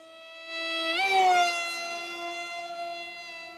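A modified RC Powers Su27 model jet flies a loop at about 60% throttle. Its engine gives a steady, tonal whine that swells and bends in pitch as the plane passes closest, then fades slightly afterward.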